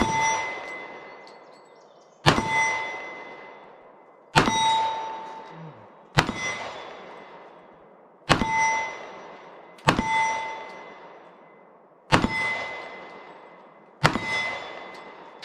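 Eight sharp shots from a Magnum Research DE 1911 U pistol at a shooting range, evenly spaced about two seconds apart, each a loud close crack with a ringing, metallic decay and no talk between them.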